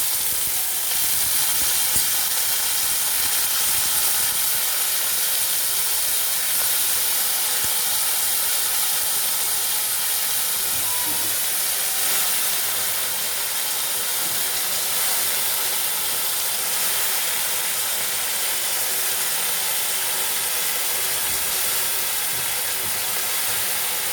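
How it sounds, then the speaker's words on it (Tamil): Pirandai, also called adamant creeper, fries in hot coconut and sesame oil, giving a steady, dense sizzling hiss that continues evenly from start to finish with no voices. "எண்ணெய் நல்லா சூடானதுக்கப்புறம் நம்ம க்ளீன் பண்ணி வச்ச பிரண்டையை இப்படி போடுங்க."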